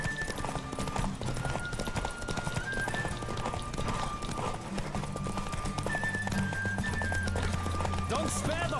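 Horse hooves galloping during a race in the video game The Witcher 3, a steady dense clatter of hoofbeats under constant game music and a voice talking throughout.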